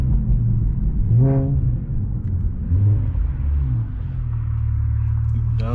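Infiniti Q50S with an automatic transmission and a resonated LDP exhaust, heard on a drive from inside: a loud, steady engine drone with rising rev sweeps.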